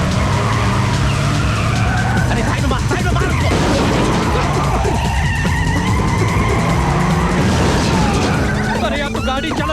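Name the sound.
car speeding with tires skidding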